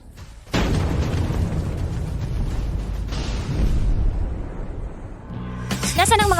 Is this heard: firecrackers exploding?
yes